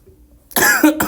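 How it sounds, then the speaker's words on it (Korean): One sharp cough close to the microphone, a harsh burst with a second short burst after it, following a moment of near silence. "제가 요새 조금 기침을 해서 찍다가 자꾸 기침이 나오는데"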